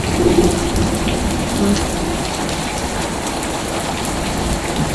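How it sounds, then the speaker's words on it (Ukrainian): Hail and rain pour down in Kharkiv, a dense, loud, continuous patter on surfaces with no voices. "Я не встигла все накрити. Ну, я думаю, град невеличкий пройшовся."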